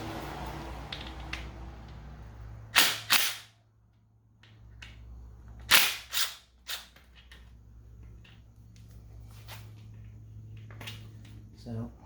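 On a Yamaha YZ250 fork, an impact gun fires two sharp bursts a few seconds apart to break bolts loose, each a brief rattling hammer, with light tool handling and clicks between over a low background hum.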